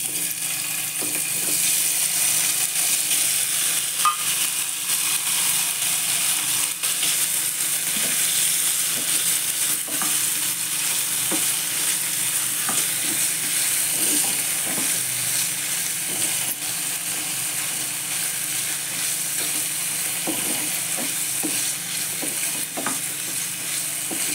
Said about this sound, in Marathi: त्याच गरम पॅनमध्ये मी थोडंसं परत तेल घालून ते पनीर थोडंसं जरा भाजून घेते